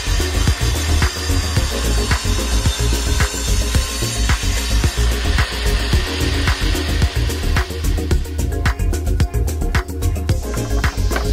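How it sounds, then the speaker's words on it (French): A saw cuts through the wooden top boards of homemade camper leveling ramps, a loud, continuous rhythmic rasp with regular strokes and clattering, close and alone without talk. "À présent, je passe à la découpe donc des plateaux supérieurs."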